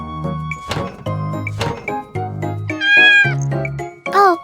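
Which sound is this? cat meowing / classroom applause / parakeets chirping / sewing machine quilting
cat meowing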